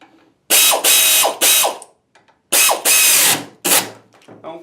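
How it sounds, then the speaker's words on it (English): A hand ratchet tightens two brake caliper bolts on a Mopar A-body, with a loud, close run of rapid clicking bursts separated by short pauses. "I'm going to screw down these 2 caliper"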